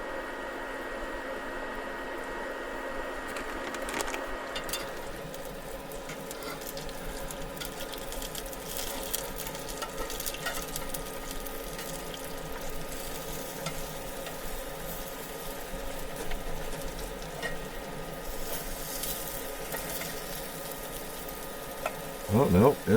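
Bacon topped with cheese fries in a pan at a truck campsite, giving a soft, continuous sizzle and crackle that holds steady throughout at low volume.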